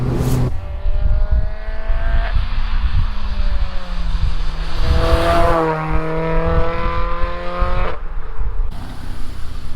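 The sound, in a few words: Renault Clio road-legal rally car engine revving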